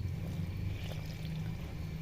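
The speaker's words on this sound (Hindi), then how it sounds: "और हम इसमें पानी ऐड करेंगे।" Water for a haleem mix made from ground lentil powder is poured into a blender, a soft, continuous splashing pour at moderate level with no talking.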